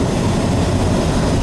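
Train ride in Romania heard from inside the carriage, with a loud, steady rumble of wheels and running gear and no talk.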